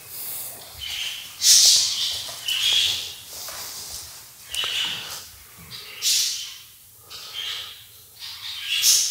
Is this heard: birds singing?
yes